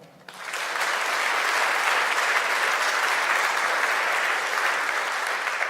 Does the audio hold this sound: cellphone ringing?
no